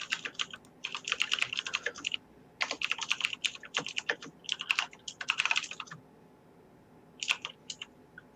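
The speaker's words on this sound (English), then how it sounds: "Sorry about the typing." Rapid clattering keystrokes on a computer keyboard come in bursts separated by brief pauses, crisp and close-miked, with no talking over them.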